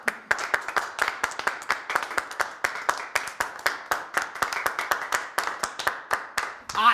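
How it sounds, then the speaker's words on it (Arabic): An audience at a retirement party claps for the retiree, a steady run of dense, fairly even handclaps lasting several seconds. "اما الان مع كلمة المتقاعد ابوي، صفقوا له"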